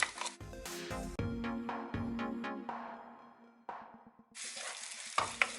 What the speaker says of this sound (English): So the oil is hot now. I'm going to add my onion and garlic.